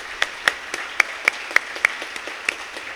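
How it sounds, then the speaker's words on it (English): An audience at an evening history program launch applauds, scattered distinct claps standing out over a soft, steady wash of clapping from a moderately sized crowd in a room. "let's give them a round of applause for all of their wonderful work"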